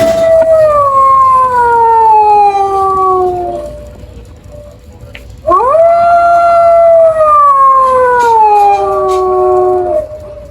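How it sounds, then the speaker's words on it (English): A long, wavering howl from a Spirit Halloween animatronic prop rises and slowly falls twice, with a short pause between; it sounds electronic and loud, like a recorded wolf call played nearby. "I believe he just kind of howls at the moon also."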